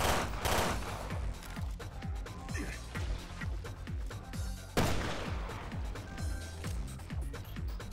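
Rapid bursts of gunfire from homing-ammo weapons in Resident Evil Revelations 2 Raid Mode, dense overlapping shots over a busy game soundtrack, loud and continuous throughout.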